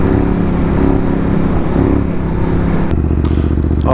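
A Ducati Desert X adventure motorcycle on a first ride, its engine running steadily loud and close with a throbbing low rumble, a shift in tone near the end as the revs change.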